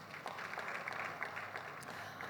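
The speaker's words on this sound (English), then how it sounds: "Let's appreciate her with a round of applause." Faint, steady round of applause from an audience at an opening programme ceremony, a soft continuous patter of many hands clapping at a distance for the whole stretch.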